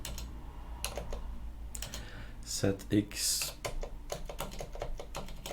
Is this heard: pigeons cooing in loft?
no